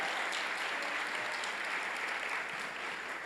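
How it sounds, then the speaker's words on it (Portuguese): A church congregation gives a round of applause during a worship service, continuous dense clapping from a large crowd that holds steady and fairly loud throughout, with no talking over it. "Dá uma salva de palmas a Lucas e Camila."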